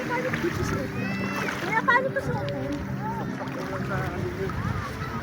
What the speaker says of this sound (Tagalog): sakay na sila sa bangka. Punta sila sa laot.